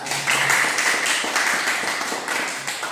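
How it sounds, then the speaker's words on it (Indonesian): A classroom of students claps their hands together, a steady wash of many overlapping claps at moderate distance, sustained throughout. "Iya, tepuk tangan."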